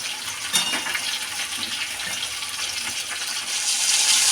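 Hilsa fish frying lightly in a pan, a steady close hiss and sizzle of hot oil that grows slightly louder toward the end, with no voices.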